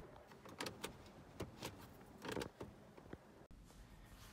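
A trim removal tool levers up the ash tray trim in an F10 BMW 5 Series interior, producing a quiet run of plastic creaks and sharp clicks spread unevenly across the moment.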